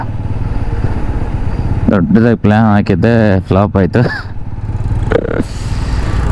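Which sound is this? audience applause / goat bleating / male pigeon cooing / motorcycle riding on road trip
motorcycle riding on road trip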